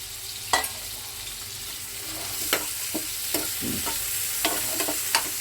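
Four garlic cloves and half an onion fry in a pan, a soft steady sizzle broken by about seven sharp spatula scrapes and taps at uneven intervals.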